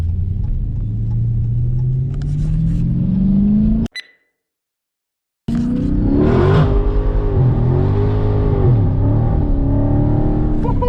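A 392 V8 with a muffler delete revs loudly and raspily, rising in pitch, then cuts to about 1.5 seconds of silence before roaring back with repeated aggressive blips and fluctuating revs.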